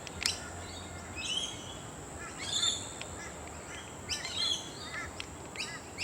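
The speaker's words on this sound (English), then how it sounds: "You hear the birds in the background." Faint birds chirp and call intermittently in the distance over a quiet outdoor background in Australia, with short high tweets scattered throughout.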